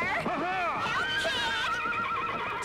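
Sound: horse neighing, from a TV programme

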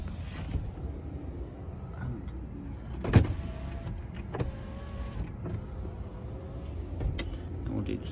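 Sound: 2013 Tesla Model S P85 power windows moving

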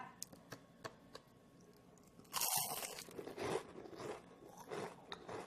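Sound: crunching on crispy fried vegetable-leaf tempura

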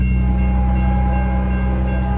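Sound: train passing on railroad

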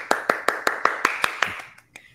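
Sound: audience applause, round of applause at Kwanzaa celebration

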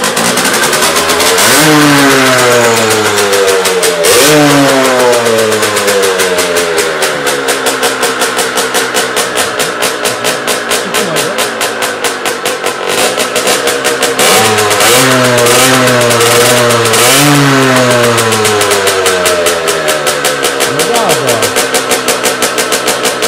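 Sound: Derbi Senda 50 enduro motorcycle engine revving

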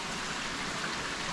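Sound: small man-made waterfall near a cave entrance

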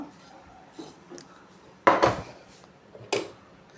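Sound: brass container being handled

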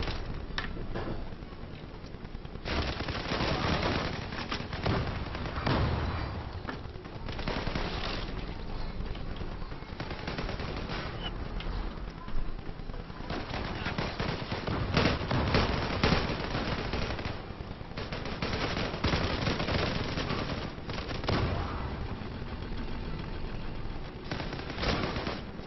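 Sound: gunfire from the Zula video game

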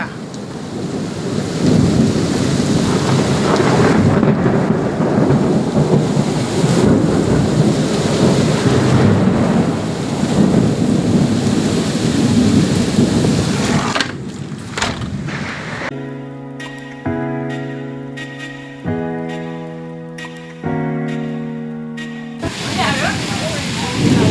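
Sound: heavy rain with thunder and storm

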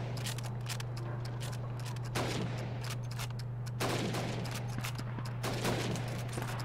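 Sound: gunfire shooting helmets in Call of Duty 2 video game

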